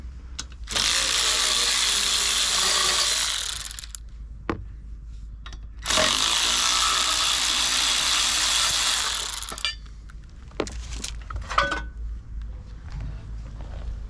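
A ratchet with an 11mm socket spins bolts out of a Briggs & Stratton engine cover in two long, loud bursts of rapid clicking, followed by a few sharp metallic clinks and handling sounds.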